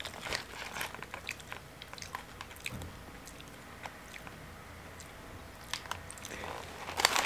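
Someone bites into Doritos corn chips from a crushed bag and chews them, producing close, sharp crunches in irregular bursts over soft mouth sounds in a quiet room.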